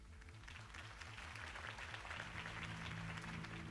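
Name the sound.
crowd applause after Harvey Dent's speech in Batman Telltale video game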